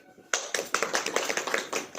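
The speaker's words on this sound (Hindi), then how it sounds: "ताली हो जाओ।" A church congregation claps hands together in a quick, steady rhythm, close and lively, with a voice speaking at the start.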